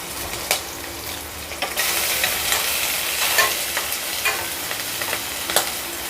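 Onion pieces and curry leaves fry in a hot pan for an ivy gourd curry, giving a steady, close sizzle broken by sharp periodic clicks and scrapes of stirring, with no voices.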